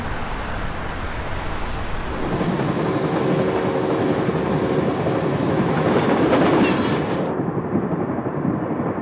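A passenger train rolls along Yellowhead Lake in Canada, with a loud, steady rumble and metallic rattle of the cars throughout and no talking.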